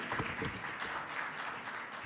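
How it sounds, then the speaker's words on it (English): A crowd at an official launch ceremony applauds steadily, a dense wash of many hands clapping at a moderate distance, sustained throughout. "can we please applaud once more our chairwoman"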